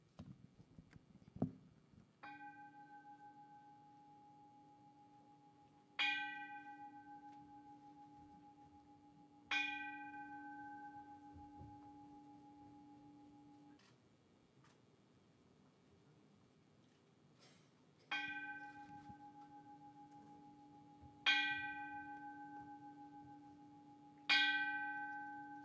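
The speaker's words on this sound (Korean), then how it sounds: "종소리에 맞춰서 입정을 하도록 하겠습니다" A Buddhist temple bell is struck six times, slow and widely spaced, for a memorial meditation at a memorial rite. Each clear resonant strike rings out and decays gradually into near silence.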